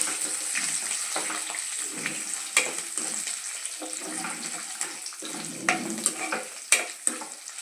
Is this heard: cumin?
yes